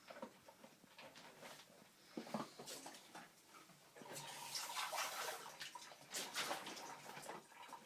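Homemade prison hooch splashes and trickles as it is poured from one container to another, with lumps and bits of brown bread in the liquid; the pouring is close and uneven, surging louder partway through.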